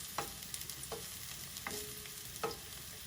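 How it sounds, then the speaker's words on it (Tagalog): Kangkong goes into a pan of sizzling garlic, giving a steady frying hiss broken by a few sharp stirring clicks and scrapes, with no one speaking. "Pagka lumabas na po yung aroma ng bawang, pwede na po natin ilagay ang kangkong."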